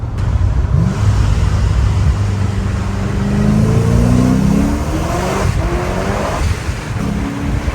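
A supercharged C5 Corvette accelerates hard during a pull, a loud, rising engine roar that climbs in pitch through a gear, eases off, then surges again, heard from inside amid heavy wind and road rumble.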